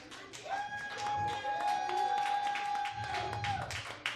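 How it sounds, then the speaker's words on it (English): A lone audience member claps at a comedy show, producing a thin, quiet run of separate hand claps beneath a steady hum, with a voice nearby. "One guy's clapping."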